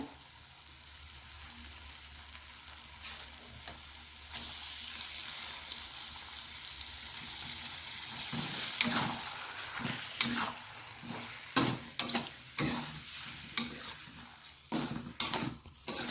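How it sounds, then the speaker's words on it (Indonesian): Beef sautés with spice paste for asam padeh. A soft, low sizzle starts quietly, then spoon scrapes and clanks against the pan come in bursts as the meat is stirred. "Nah, ini kita tumis selama 30 menit sampai daging menyusut."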